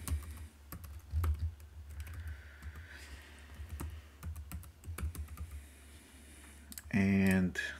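Password being typed on a computer keyboard during a crypto wallet setup, rapid irregular key clicks over steady hum with intermittent speech, ending in a brief bright tonal chime.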